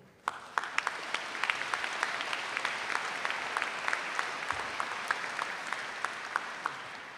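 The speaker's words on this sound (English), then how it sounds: "let's please give a round of applause for all of our scholastic recognitions" Even, continuous applause from an audience at a high school commencement ceremony, with individual sharp claps popping out of the steady wash of hands.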